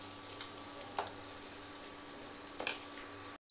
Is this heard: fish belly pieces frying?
yes